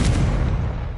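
A Confringo fire spell goes off in a Harry Potter video game as a single loud, close, booming blast that decays into a rumbling tail, with no voices.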